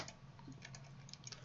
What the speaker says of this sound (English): So I'm typing in the number 60 to make this a 60 by 60 by 30